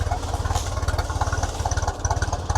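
A small engine idles low and steady, loud and close, with an even rapid chugging pulse and no voices.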